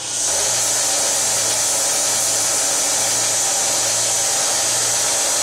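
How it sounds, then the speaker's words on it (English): A 1x30 belt grinder is switched on for knife sharpening, its motor and belt spinning up fast into a loud, steady, even whir that holds throughout with no voices. "if you have a 1x30 grinder, you can get the belt for it like I have here"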